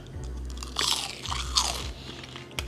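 Loud, close crunchy bites into crisp food cooked in a COSORI Smart Air Fryer XL 5.8QT, with two or three sharp crackling crunches followed by chewing, and no talk.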